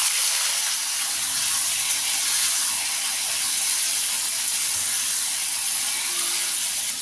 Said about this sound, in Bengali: এবার দিয়ে দেবো কেটে ধুয়ে রাখা আলু আর গাজর